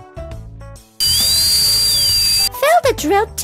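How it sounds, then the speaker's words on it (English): Dentist's drill in the Hippo Hospital video game, a loud steady high whine lasting about a second and a half, framed by cartoonish game music and jingle tones before and after. "Remove cavities with a dentist's drill."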